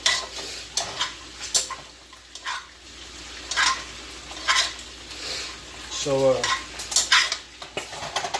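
Bacon frying in a pan with sharp pops and spattering bursts over a low sizzle, along with clinks of utensils and a brief scrape; spitting grease crackles irregularly.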